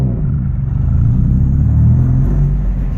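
A manual car with a Stage 4 Exedy twin-disc clutch rumbles steadily as the clutch engages under added throttle, a loud, close, low drone that holds for a few seconds without any speech.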